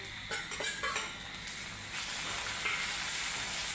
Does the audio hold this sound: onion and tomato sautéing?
yes